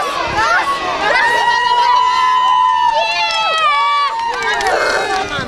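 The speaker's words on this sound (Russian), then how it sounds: "со всех сторон слышны крики поддержки от родителей и их команд" Crowd of parents and children shouting and cheering loudly at a school tug of war, continuous excited voices with high shrieks, close and busy.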